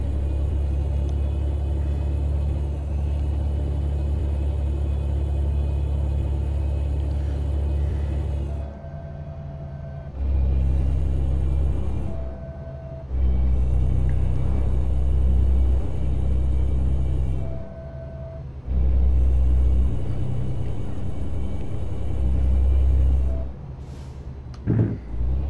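In American Truck Simulator, a truck's engine brake gives off a deep, loud, sustained rumble in long stretches separated by brief drops in engine sound.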